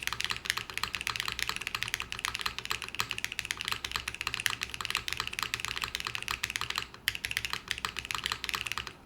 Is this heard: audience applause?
no